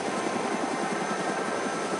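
A helicopter in the DayZ video game drones with a steady rotor and engine hum, a continuous throbbing whir at constant loudness, alone with no talk.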